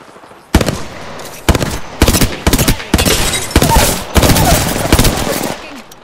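Gunfire in the video game Apex Legends, with loud repeated bursts of automatic weapon fire in quick volleys and short gaps between them, dense and close for the whole stretch.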